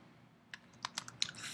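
Keys tapped on a Mac computer keyboard while entering a command, a short burst of quick, uneven clicks, close and fairly quiet, with no talking.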